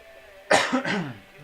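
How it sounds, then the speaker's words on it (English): One sharp, close cough in two quick bursts during a morning live stream, fairly loud against quiet room tone. "going to cough again."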